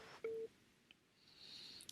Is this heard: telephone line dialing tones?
yes